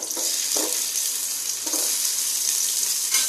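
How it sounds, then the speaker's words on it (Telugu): Chopped beetroot and carrot with onions fry in a pan on a home stove, a steady bright sizzle with a few soft scraping stirs, close and continuous with no voices. "ఇవి కొంచెం ఫ్రై అవుతాయి. వేగుతూ ఉంటాయండి."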